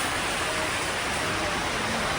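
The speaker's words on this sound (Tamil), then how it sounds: "கண்டி கதிராமத்துக்குள்ளே வந்தோன்னா நல்ல மழை பெய்யுது." Heavy rain falls steadily in Kandy, a dense, continuous wash of hiss with no pauses, close and fairly loud.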